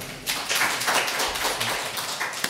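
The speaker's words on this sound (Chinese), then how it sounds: "让我们用热烈的掌声欢迎周云龙老师" Audience applause welcoming a lecturer to a university workshop, a dense, steady patter of clapping from a seated crowd, moderately loud and sustained throughout without voices.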